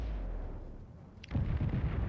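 Torpedoes strike a ship in the naval battle game World of Warships, a low rumbling pause broken by a sharp crack and then a heavy, booming burst of explosion noise that rolls on to the end.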